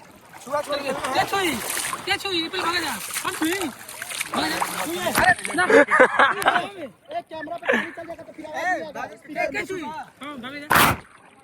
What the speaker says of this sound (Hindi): देखो आ गया पानी कैमरा पे